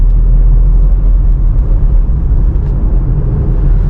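A car driving in fourth gear, heard from inside as a steady low engine drone and road rumble that holds constant throughout, no speech.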